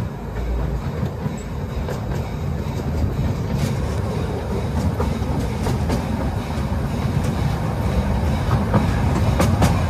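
A small train rolls along with a steady rumble and rhythmic clattering of wheels on track, heard from on board at moderate volume.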